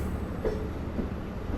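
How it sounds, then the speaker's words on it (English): A Long Island Rail Road passenger train pulls forward at a station platform in Westhampton, giving a steady, close rumble of rolling cars with faint wheel noise and no talk. "They'll pull the train forward, stop it again after the 6 rear cars can platform."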